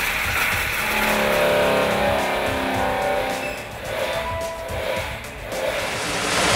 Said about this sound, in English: when the engine's on the dyno, obviously it's all running, it's quite noisy in the room